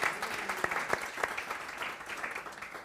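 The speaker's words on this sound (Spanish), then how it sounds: "les pido que me acompañen dándoles un aplauso extraordinario" An audience at a panel event in Chile applauding, a dense patter of many hands clapping together at moderate volume, steady and then gradually easing.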